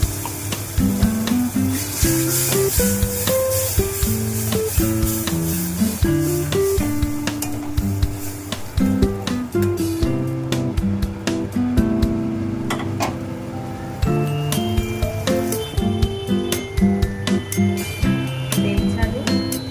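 Spice paste sizzles in hot oil in a pan while being stirred for a duck egg curry, a steady close frying hiss with clinks of the spatula, under background music and a voice speaking.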